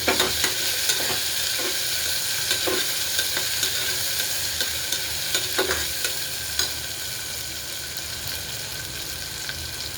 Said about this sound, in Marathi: गवार स्वच्छ धुवून घेतलेले ते टाकून दिले तेलामध्ये. एकदा एकजीव करते कांदा, टमॅटो